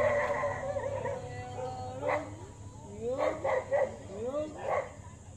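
A dog yips and howls in short rising cries, several bursts spaced apart in the second half, heard over steady background noise and voices.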